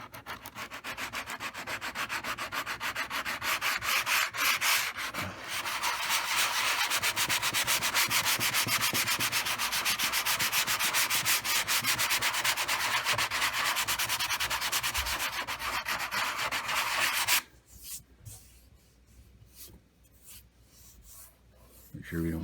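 A sanding block scrubs sandpaper rapidly back and forth across wooden furniture in a loud, continuous rasping rhythm, then stops abruptly, leaving quieter scattered rubbing and handling noises.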